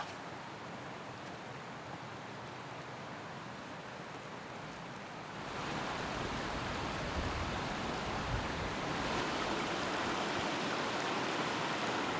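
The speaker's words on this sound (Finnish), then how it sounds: "Se oli Haatajan puro toi." A forest stream, Haatajan puro in the old-growth woods of Martinselkonen, flows with a steady broadband rush of water that grows noticeably louder halfway through, close and continuous with no voices.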